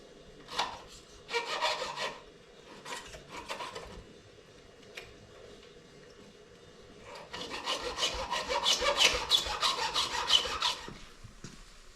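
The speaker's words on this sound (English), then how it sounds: "What I'm going to do is file down the rakers, get a little more of a bite." A hand file works down the rakers on a damaged Stihl chainsaw chain. Short separate bursts of close rasping strokes give way to a longer run of rapid, rhythmic filing near the end.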